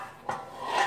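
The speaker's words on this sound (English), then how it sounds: "And then I have two loaf pans." Metal loaf pans knock and clatter as they are handled for a sweet potato quick bread, a sharp clank near the middle and a brighter rattle building toward the end, close and fairly quiet.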